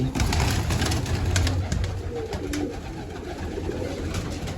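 Pigeons cooing in low, repeated throaty calls close by, with faint background noise and occasional soft clicks, no clear talking.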